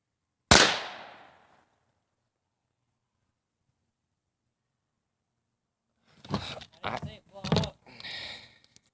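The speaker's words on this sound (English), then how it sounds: "I'm gonna take a practice shot here." A single sharp practice gunshot cracks close and loud, then fades into silence before a person starts talking several seconds later.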